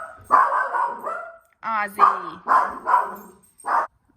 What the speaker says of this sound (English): Ozzy was barking because my grandma got home